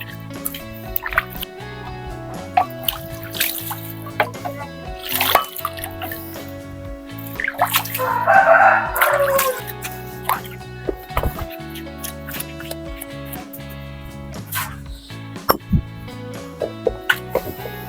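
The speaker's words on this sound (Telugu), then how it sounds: "రోట్ని అయితే శుభ్రం చేస్తున్నాను" Water splashing, dripping and plopping as a stone grinding mortar is rinsed and scrubbed clean in a village kitchen, with irregular wet knocks and a busier burst of splashing midway.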